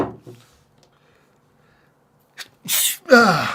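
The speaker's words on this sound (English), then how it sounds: "Just sneezed." After a quiet stretch, a sharp intake of breath leads into a single loud, close sneeze, followed by a brief exhale.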